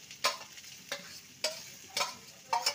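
Mashed fried fish is stirred with pointed gourd in a pan, five sharp scraping strokes at an even pace over a faint sizzle, close and alone.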